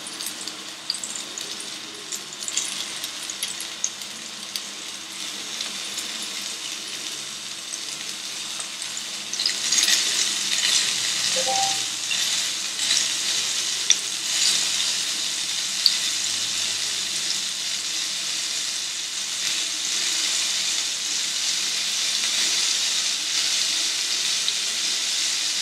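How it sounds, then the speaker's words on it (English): Prawns sizzle and spit in hot oil for a prawn chilli fry, a steady broadband crackle that swells louder after the first pieces drop in and holds dense and close throughout, with no talking. "my oil is nice and hot now. I'm going to start tossing in the prawn."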